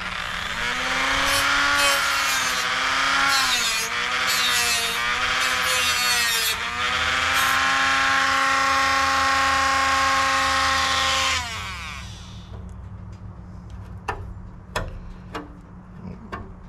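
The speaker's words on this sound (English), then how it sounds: "I'm gonna clean up with the Dremel." Dremel rotary tool trimming the lip of a plastic motorcycle windshield, a loud high-pitched whine that dips and rises under load for about eleven seconds, then winds down, followed by faint scattered clicks and handling noises.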